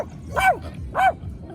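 Two sharp, arching barks from a dog playing alongside another, bigger dog on Réunion island, spaced about half a second apart, close and clear over a quiet background.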